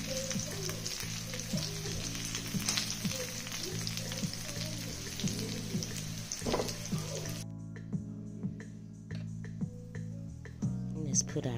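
Browned oxtails sizzle steadily in a pressure cooker, a continuous frying hiss with soft crackle that runs under a speaking voice, then drops to quieter, sparser sizzling and pops in the closing seconds.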